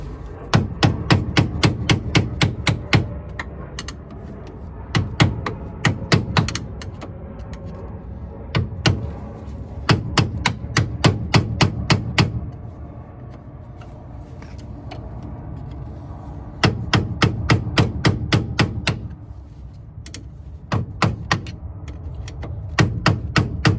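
Hammer blows punching out the inner tie rod on a BMW E30, metal on metal, struck in quick repeated bursts of several sharp ringing hits with short pauses between groups, close and loud with no talk.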